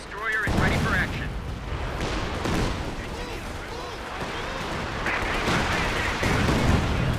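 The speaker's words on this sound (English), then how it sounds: "It's a lot of artillery." Heavy artillery barrages and rattling gunfire in a Company of Heroes 2 battle, a loud, sustained mix of booming impacts and rapid shots with a voice talking over the din.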